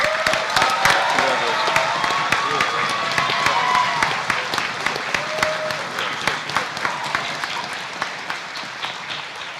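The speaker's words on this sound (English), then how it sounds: "I think that deserves a special round of applause" A room full of people applauds, steady dense clapping with some cheering and voices mixed in, gradually thinning toward the end.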